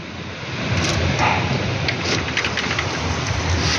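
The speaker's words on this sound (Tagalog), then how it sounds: "Saglit nating bubuksan ang bintana para maramdaman natin yung hangin at ulan." Loud, dense typhoon rain pouring steadily with gusting wind, heard through an open window, close by and continuous, no voices.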